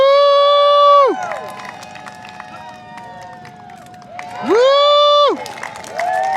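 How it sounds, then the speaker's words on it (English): Bursts of crowd cheering at a Renaissance fair joust swell up loudly, ease off into scattered shouts and murmurs, then surge again, with voices calling out among the spectators. "Let me hear you cheer for Malcolm!"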